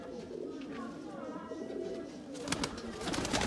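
Pigeons kept by a breeder in Faisalabad coo softly with a low, throaty warble, a steady murmur of several birds close by that thickens toward the end, with faint chatter in the background.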